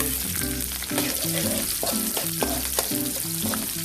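Garlic and onion sautéing in hot oil in a pan, a close, continuous crackling sizzle with occasional stirring scrapes throughout.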